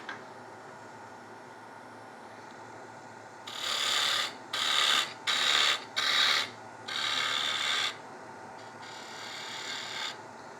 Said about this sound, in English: Move that tool rest back.